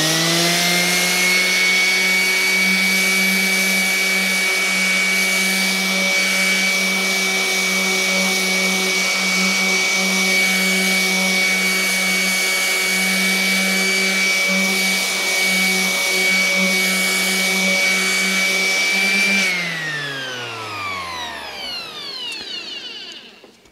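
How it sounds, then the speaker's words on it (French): An AEG EX-125-ES random orbital sander works on wood at top speed, a loud, steady high-pitched motor whine that holds for about twenty seconds, then winds down as the machine shuts off. "le ponçage est vraiment efficace, même si je trouve que la machine fait un peu de bruit à cette vitesse-là"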